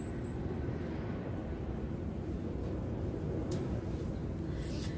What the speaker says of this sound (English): I have to wait for after the helicopter.